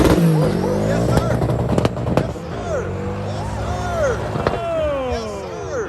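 A twin-turbo Trans Am accelerates hard away from a cars and coffee meet, tires breaking loose, its loud engine climbing through repeated rising revs with sharp pops, while bystanders talk and cheer over it close by.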